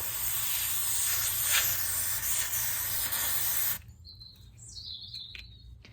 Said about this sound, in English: we're going to grab the Clipit Ice Care Spray